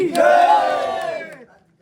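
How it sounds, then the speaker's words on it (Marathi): A crowd at a night cricket match lets out one short, loud collective shout of cheering that rises sharply and fades within about a second and a half. "यश 11 संघासाठी जोरदार टाळ्या झाल्या पाहिजे"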